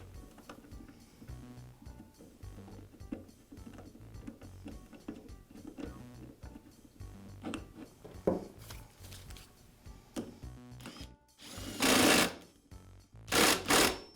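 A washer and bolt are fastened onto the shaft of a Husqvarna string trimmer while the cup is being replaced. Small metallic clicks and ratcheting turns build into a few louder, harsher bursts near the end, close up with no voices.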